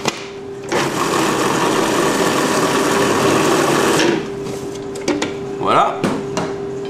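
A blender whirs for a few seconds, pureeing strawberries into pulp. It is loud and steady, then cuts off, and a few clunks and a voice follow.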